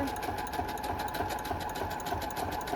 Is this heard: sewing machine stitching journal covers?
yes